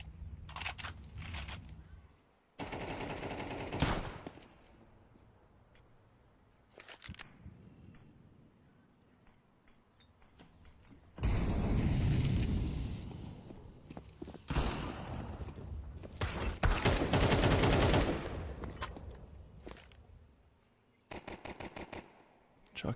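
Gunfire in a competitive esports play-off match on a bomb-site map, with bursts of automatic fire and loud volleys separated by quieter stretches and no commentary voices.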